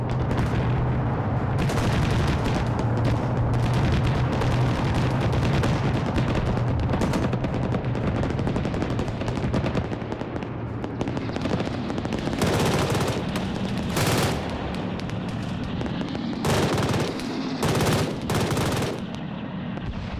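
Rapid bursts of gunfire from a mech combat video game, loud and continuous with sharp repeated volleys and heavy low rumble throughout.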